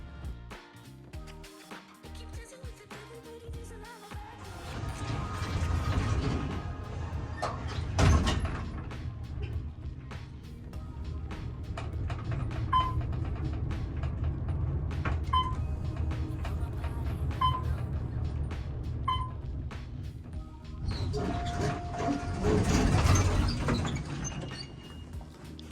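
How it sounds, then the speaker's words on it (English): An Otis elevator rises with a low steady mechanical hum and rumble, faint clicks and a few light chimes along the way, with sliding door motion and louder rumbling near the start and end. "All right, here we go up the elevator."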